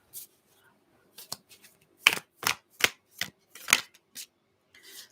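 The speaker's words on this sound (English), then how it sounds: "I'll have to shuffle them a little bit longer." Tarot cards being shuffled by hand in a quiet room, a run of crisp, separate riffling snaps and slides, close and fairly soft, with short pauses between bursts and no voices.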